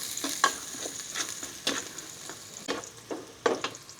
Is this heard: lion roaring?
no